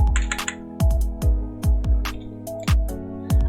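Computer keyboard keys are pressed one at a time in a slow, uneven rhythm, each a close, distinct tap with a dull thump.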